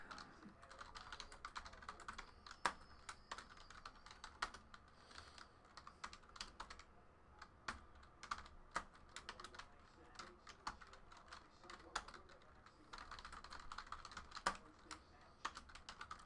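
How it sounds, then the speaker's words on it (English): Typing on a computer keyboard while entering results during a 2018 Leaf Valiant football card box break: quiet, uneven bursts of close keystroke clicks running steadily throughout. "Let's type in these hits."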